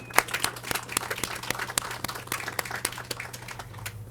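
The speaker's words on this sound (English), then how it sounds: "another round of applause for everyone who helped make this possible" Scattered applause from an audience at a county 275th anniversary closing ceremony, a sparse run of distinct individual claps rather than a dense roar, fairly quiet and continuing steadily for a few seconds.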